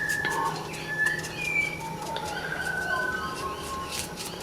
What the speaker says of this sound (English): Hope you guys can hear the bird songs in the distance there.